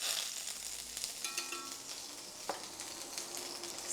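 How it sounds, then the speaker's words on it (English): Butter and olive oil melt together in a pan over medium to medium-high heat for Tuscan salmon, giving a steady, quiet sizzle with a few faint scrapes and clinks and no talking. "we'll melt some butter and olive oil over medium heat, medium to medium-high heat."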